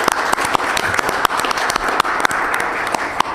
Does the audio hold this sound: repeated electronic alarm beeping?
no